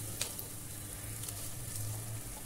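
Masala sizzles and fries in a pan as it is stirred during preparation of a sea fish curry. A steady close hiss runs throughout with soft scraping from the stirring, and no talk.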